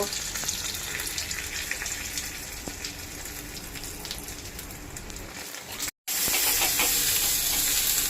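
Dried red chillies, curry leaves and asafoetida crackle in hot oil for an idli sambar tempering, a dense, steady sizzle that runs on continuously, briefly drops out, then resumes just as loud.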